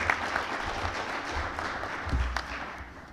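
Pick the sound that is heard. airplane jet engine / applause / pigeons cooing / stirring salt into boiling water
applause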